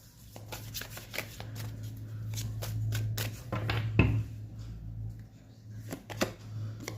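Tarot cards are shuffled and riffled in a steady run of crisp, close flicks and slaps, with a low steady hum beneath and a brief louder handling bump midway.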